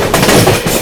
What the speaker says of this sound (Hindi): यहाँ हम लोग ओवरटेक कर रहे हैं 12420 new Delhi Lucknow Gomti superfast express को